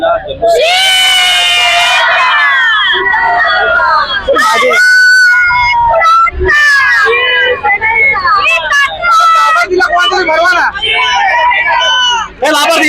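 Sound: crowd of women cheering at a celebration

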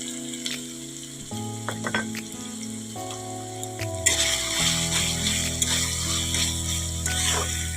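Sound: sautéing masala for rohu fish curry in pan

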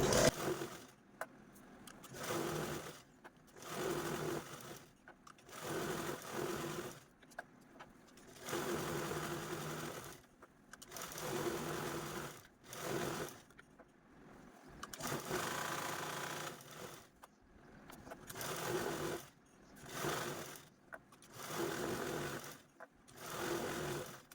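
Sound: sewing machine quilting stitches on fabric bottle cover

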